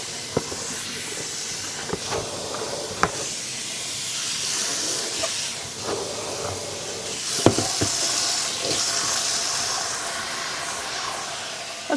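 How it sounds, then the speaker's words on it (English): Dyed sock yarn rinsed under running water, a steady close hissing rush of water with occasional knocks and splashes, no talking. "Now I am going to rinse it once more."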